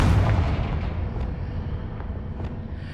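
A Confringo blasting curse explodes in Hogwarts Legacy, a heavy boom at the start that rolls into a long rumbling decay with a few sharp crackles trailing off.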